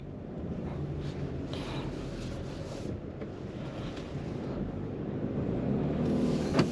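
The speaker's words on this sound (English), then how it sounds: "the vehicle does still have that engine noise or CVT noise when you accelerate" A 2024 Subaru Crosstrek Premium accelerates: a low engine drone with a continuous CVT whine rises steadily under heavy rumbling road and wind noise as the car gathers speed; nobody speaks.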